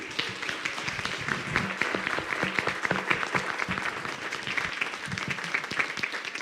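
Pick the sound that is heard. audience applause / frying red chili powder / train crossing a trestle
audience applause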